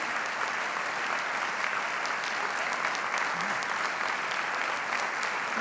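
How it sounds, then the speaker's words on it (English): An audience at a master's degree convocation applauds steadily for the outgoing dean, a dense, even round of clapping from a large crowd lasting throughout. "so I think we should give him a round of applause."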